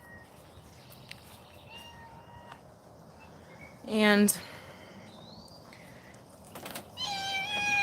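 Several farm cats meow insistently for food, a few short distant cries followed by one loud, close meow and more calls near the end, over quiet outdoor background with a brief spoken word.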